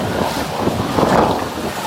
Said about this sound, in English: water's still coming in.